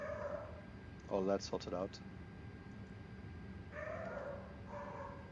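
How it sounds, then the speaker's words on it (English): A real dog barks in a short burst of several sharp yips, fairly near and loud, after a brief line of speech, followed later by quieter muffled barking over steady background hum. "Usually when my dog barks, it means something's up."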